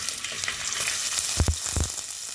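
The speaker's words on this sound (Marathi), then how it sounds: "त्याच्यामध्ये आपण तेल टाकणार आहोत तेल तापत आलं का आपण याच्यामध्ये बारीक चिरलेला कांदा" Finely chopped onion fries in hot oil in a pot for a masala omelette, giving a bright, continuous sizzle with a few quick stirring scrapes close by.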